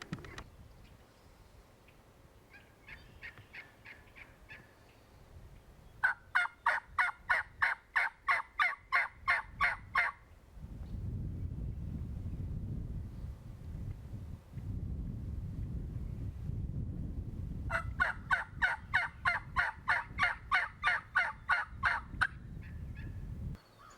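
Wild turkeys gobble in two loud rapid bursts of rattling calls, with fainter calls earlier and wind noise rushing across the microphone in between, heard outdoors during a spring hunt.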